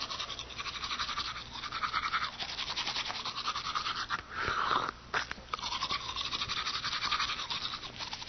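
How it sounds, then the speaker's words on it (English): Toothbrush scrubbing teeth as a radio comedy sound effect, a close, steady bristly rasp with rhythmic back-and-forth strokes and a brief wetter burst midway, heard alone without speech. "Let me just brush my teeth."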